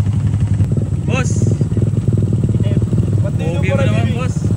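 A motorcycle engine runs close by with a throaty mid-pitched rumble, while people talk and laugh over it.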